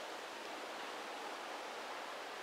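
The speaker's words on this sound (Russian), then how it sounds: "Сильный ветер." Strong wind blows outdoors at a country dacha, a steady, dense rushing roar that holds without a break and drowns out any other sound.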